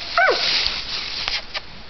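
A hunting dog gives a single sharp, yelping bark at a raccoon treed at night. A few faint, brief sounds follow in the quiet outdoor setting.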